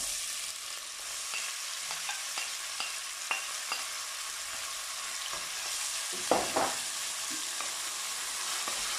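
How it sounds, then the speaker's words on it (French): Peppers, garlic and onions fry in a pan, a bright continuous sizzle with scattered pops and a few utensil scrapes, close and alone without talk. "je vais laisser revenir tranquillement jusqu'à ce que les oignons soient translucides"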